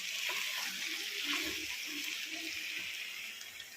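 Water poured into a pan of chicken frying in oil, a steady broadband hiss and sizzle running throughout at moderate loudness, with a few faint low thumps and no talking.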